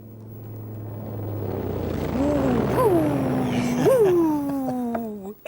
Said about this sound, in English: Ooh, it's an aeroplane.